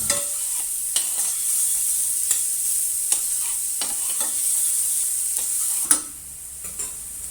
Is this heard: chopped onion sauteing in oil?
yes